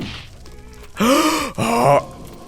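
A creature in a Nether fortress in Minecraft 1.19 breathes heavily, two loud drawn-out groaning breaths in quick succession, close and prominent.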